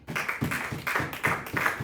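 Church congregation clapping after a sermon, a short run of rhythmic, moderately loud claps from a group, steady and without voices.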